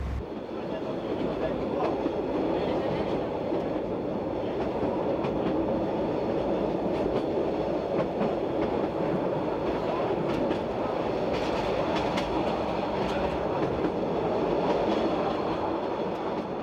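An X 97050 railcar climbs a Corsican mountain railway, its engine and wheels giving a steady, loud rumble with faint rhythmic clatter from the track throughout, close and continuous with no gaps.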